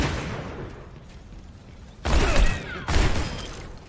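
Two sharp, loud gunshots fired in a video game crack about a second apart after a quieter stretch of game noise.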